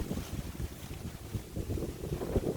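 Steady wind rushing and buffeting a microphone at a rice field, low and rumbling with gusts; no voices.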